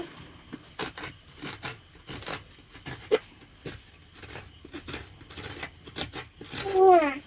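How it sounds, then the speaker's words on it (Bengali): A coconut is grated by hand in a home kitchen, giving steady, rhythmic scraping strokes, close and moderately loud, over a constant high insect chirp from outside. "তার জন্য নারকেলটা আগে চুড়ে নিচ্ছি"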